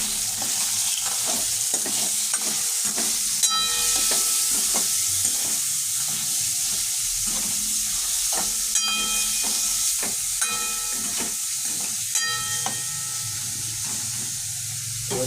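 Thinly sliced chicken frying in oil for a healthy hot and sour soup, a loud continuous sizzle with repeated sharp stirring scrapes of a utensil against the pan, no voices.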